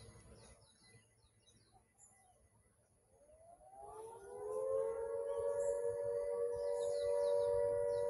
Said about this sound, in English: Hear the sirens again.